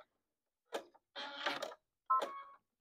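A sewing machine backstitches near the top edge of a half apron, heard as three short mechanical bursts of stitching with brief pauses between them, close and fairly quiet.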